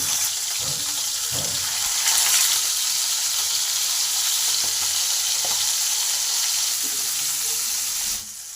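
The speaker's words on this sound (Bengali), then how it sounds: "তেলটা ভালোভাবে গরম হয়ে গেলে মাছগুলোকে এক এক করে ভেজে নেব" Fish pieces fry in hot oil in a pan, a steady, loud sizzle running throughout with a few faint clinks of a utensil, fading slightly at the very end.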